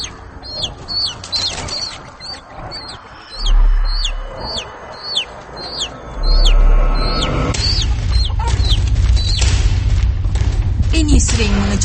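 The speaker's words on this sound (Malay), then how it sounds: "menyebabkan ayam lari bertengkaran dan berbunyi bising" Chickens cluck and squawk in agitated, repeated bursts while a civet attacks the flock, with wing flapping and thumping commotion growing louder and more chaotic in the second half.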